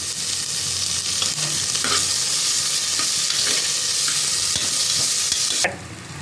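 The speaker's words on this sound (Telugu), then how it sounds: "అల్లం వెల్లుల్లి పేస్ట్ వేసుకొని కొద్దిగా వేయించుకోవాలి పచ్చివాసన పోయేంత వరకు" Ginger garlic paste sizzles and fries steadily in a pan, with occasional scraping stirs, until the frying cuts off abruptly near the end.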